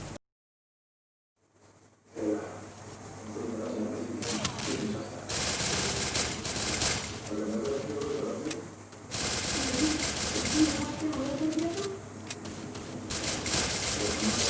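Gunfire in the mobile game Free Fire during a headshot fight: bursts of rapid automatic shots and sharp cracks over a steady game backdrop, starting after a brief silence, with a voice talking alongside.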